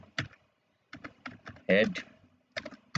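HTML code being typed on a computer keyboard, short bursts of clicking keystrokes with brief pauses between, close and fairly quiet.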